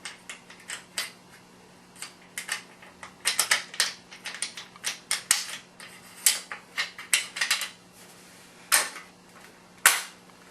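Sig 522 rifle bolt being slid back in and the charging handle inserted during reassembly, a series of sharp metallic clicks and clacks, irregular and close, some in quick clusters.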